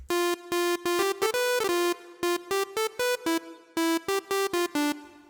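Bright, buzzy synth lead playing a quick melody of short staccato notes with a few held tones, dry and unprocessed, alone with no talking.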